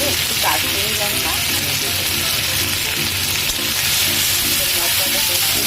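Masala spice paste for a poppy-seed pomfret curry sizzles steadily in a pan, a dense, even frying hiss with faint stirring scrapes throughout, close and continuous with no talking.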